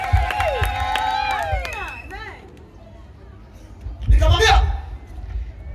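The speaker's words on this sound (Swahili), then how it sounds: "Piga Yesu makofi wewe." A church congregation at a revival teaching service bursts into cheering and clapping after a preacher's voice, the crowd noise swelling loud and close for a couple of seconds before settling.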